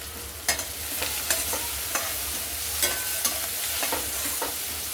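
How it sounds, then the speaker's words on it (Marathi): Chopped tomatoes with a pinch of salt frying in a pan for a spicy sprouted moth bean curry, a steady hiss of sizzling broken by a dozen or so light, irregular scrapes of a spoon stirring. "टोमॅटो आपल्याला मऊ पर्यंत शिजवून घ्यायचा"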